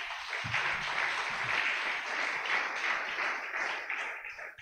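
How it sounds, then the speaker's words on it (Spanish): A church congregation applauding together in sustained clapping that holds steady for several seconds, full and close, with no voices over it. "Denle un aplauso a Dios"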